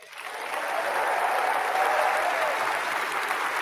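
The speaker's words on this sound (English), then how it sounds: "Did they ship in the Jimmy Kimmel audience to clap for him?" Steady applause from a large conference audience, swelling in and holding at an even level, with no voices standing out.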